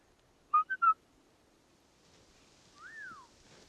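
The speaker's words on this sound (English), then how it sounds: "So if I whistle," Whistled signal between two people on a steep Rocky Mountain slope: three short clipped notes, then after a pause one longer rising-and-falling whistle, fairly distant over quiet outdoor background.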